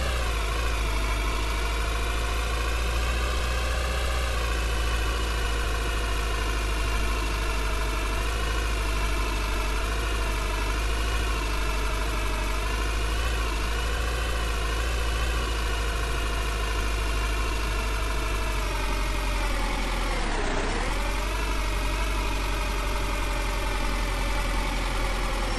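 A Lada Zhiguli engine idles steadily in the Motor Depot driving game, a constant mid-low drone with slight wavering pitch and a brief dip near the end, with no talk over it.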